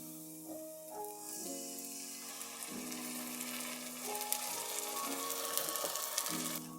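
Onions sizzle and fry steadily in a pot of oil as they soften for an eggplant parmigiana sauce, a close, continuous crackle with stirring. A melodic background tune plays over it throughout.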